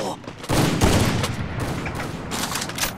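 Sniper rifle fire in the mobile battle royale game Free Fire, a dense burst of shots and impacts running throughout, loud and close, with game sounds layered underneath.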